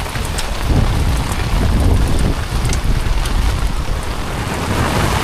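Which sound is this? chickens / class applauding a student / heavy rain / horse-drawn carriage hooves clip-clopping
heavy rain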